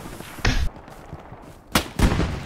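Sharp gunshot cracks in the Hell Let Loose battlefield, one loud report followed by a couple more close bursts a second or so apart, with no talk over them.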